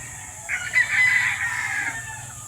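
A Boston gamefowl rooster crows once, close and loud, a drawn-out cock-a-doodle-doo lasting over a second over a steady background hum.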